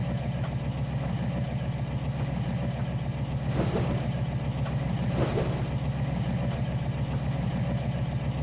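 A locomotive diesel engine in Trainz 2019 runs steadily, a deep rhythmic throb with a constant low drone, close and unbroken, with a couple of brief airy surges.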